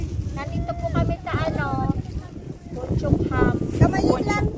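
Gusty wind at the seashore at Wong Chuk Wan buffets the microphone with a continuous rough roar while people talk over it.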